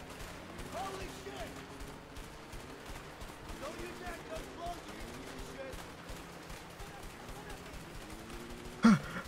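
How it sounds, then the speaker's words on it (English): Gunfire aimed at the player in a video game, with rapid rattling bursts and repeated shots running steadily at moderate loudness under an excited voice. "They're fucking shooting my ass!"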